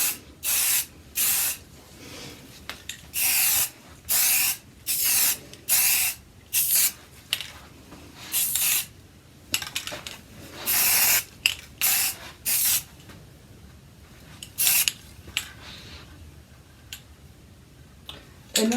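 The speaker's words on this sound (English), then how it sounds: "I'm just going to do a light spray paint over this" Oil-based spray paint hisses from an aerosol can in a long series of short, even bursts with brief pauses between, close and fairly loud, with no talking.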